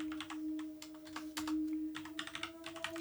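Quick, uneven clatter of keys on a mechanical computer keyboard, fairly close and soft, with bursts of keystrokes over a faint steady electrical hum.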